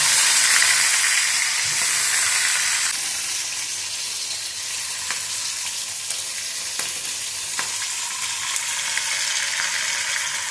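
Cumin, tomato and green chili fried in oil in a kadhai, a loud continuous close sizzle that eases slightly after a few seconds, with occasional faint clinks.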